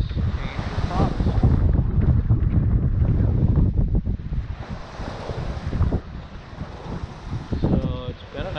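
Wind and waves while sailing across Lake Michigan in steep, lumpy chop, with gusty wind roaring loudly over the microphone and surf sloshing against the boat throughout, loud and close with no talk.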